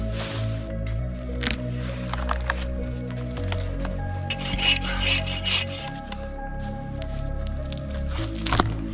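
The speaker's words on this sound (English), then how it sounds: "This wood is covered in ice and is soaking wet. It's gonna be really hard to light, so I'm splitting it in the hopes that it'll burn a little bit better." Ice-covered, soaking wet firewood being split at a winter hot tent camp in a blizzard, with scraping, rubbing and cracking wood sounds up close and a few sharp knocks.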